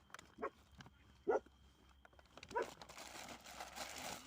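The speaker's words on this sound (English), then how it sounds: "Dogs are going crazy because people are walking past arguing" Dogs barking at people walking past, three sharp separate barks spread over a few seconds indoors, with faint background noise and a brief rustle.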